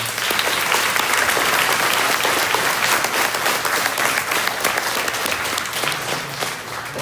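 Crowd at a Veterans Day gathering claps in sustained, lively applause, many hands beating rapidly and evenly, fairly loud and filling the room with no talking over it.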